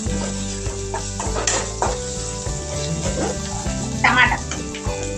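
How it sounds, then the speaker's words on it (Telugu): Ginger paste and pigeon peas frying in a pan, a soft steady sizzle with scraping stirs and a few utensil knocks against the pan, alongside background household noise. "కొద్దిగా ఫ్రై అవుతున్నాయి కదా."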